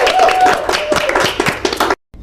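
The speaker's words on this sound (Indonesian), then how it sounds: "Sekali lagi berikan tepuk tangan yang meriah." An audience at a school podcast event claps together, a dense burst of handclaps that thins toward the end and stops abruptly.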